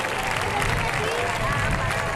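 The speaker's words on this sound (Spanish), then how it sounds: "¡Ese fuerte aplauso!" Crowd applause at a bull-leaping contest in Gandía, a dense continuous roar of clapping and cheering from a large audience, with a commentator's voice over it.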